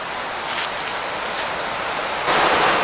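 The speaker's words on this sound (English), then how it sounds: "right over here is the waterfall" A waterfall near the remains of an old canal aqueduct, a steady broadband rush of falling water heard alone, loud and continuous, swelling slightly toward the end.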